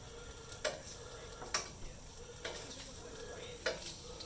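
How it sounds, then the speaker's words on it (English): Gluten-free BBQ pork ribs being flipped over on a hot grill, a steady sizzle and crackle with four sharp scraping clicks from the turns spaced about a second apart, close and moderately loud. "So we got them crisping up a little bit, so I'm going to flip them."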